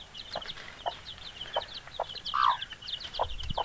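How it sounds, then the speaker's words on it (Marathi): On a farm that keeps goats and poultry, a hen clucks in short, evenly spaced calls while her chicks peep thinly and rapidly around her, all fairly close with no speech. "कोंबडी आणि तिचे पिल्लं किती मस्त इथं खेळताना आपल्याला दिसत आहेत"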